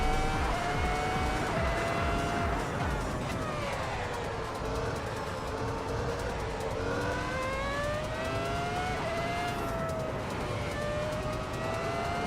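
A race car engine in the Assetto Corsa Competizione video game holds a steady, loud, buzzing drone that rises and falls with gear changes and revs throughout, with no talk.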